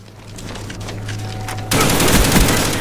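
Rapid automatic gunfire from a Call of Duty Black Ops multiplayer match bursts out loudly and continuously after a low hum, dense and close with no talking.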